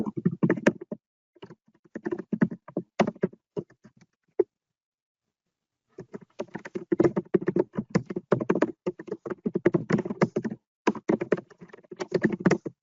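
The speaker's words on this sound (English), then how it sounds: "somebody is typing like crazy" Rapid, dense clatter of keys being typed on a computer keyboard, close and fairly loud, coming in bursts with a short silent gap before a long continuous flurry; no talking.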